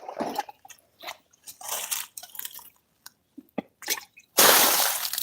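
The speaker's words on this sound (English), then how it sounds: "I poured out like a gallon out of my shoes." Water gushing out of a soaked boot just after a step into deep swamp water: scattered wet squishing and dripping splashes, then a loud continuous pour of water near the end.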